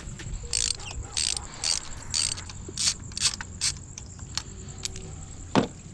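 A ratchet wrench clicks in repeated short bursts while spark plugs come out of a Mustang 3.7L V6 engine, close and crisp, with pauses and a metallic clink near the end.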